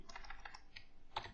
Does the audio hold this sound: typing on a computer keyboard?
yes